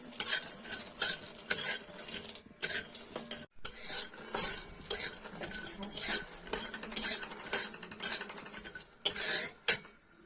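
A spoon scrapes and rattles repeatedly against a metal pan, stirring peanuts being dry-roasted in steady strokes roughly once a second.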